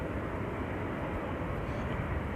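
Etihad Boeing Dreamliner departing Manchester Airport, a steady broadband jet rumble at moderate distance, continuous and even with no break.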